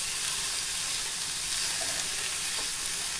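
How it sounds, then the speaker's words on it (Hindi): Chopped tomatoes added to browned onions sautéing in a pan, a close, steady sizzle and hiss that runs continuously without any talk. "हमने इसको बहुत ज़्यादा गलाना नहीं है टमाटर को, बस थोड़ा सा ही हम इसको सौते करेंगे।"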